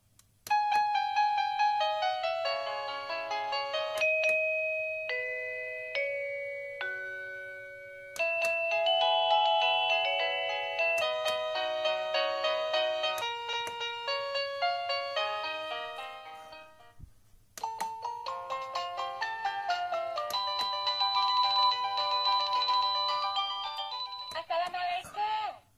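A ZemiSmart wireless battery-free doorbell plays one chime tune after another. The bright electronic melodies are loud and close, with a short break before the next tune starts.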